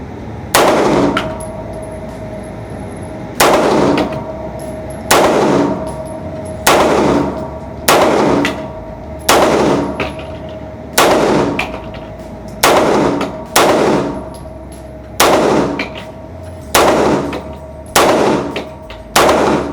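Loud, close pistol shots from 2011-style handguns, a Staccato and a Live Free Armory, fired one at a time in a slow, even cadence of about a dozen rounds, each a sharp boom ringing briefly.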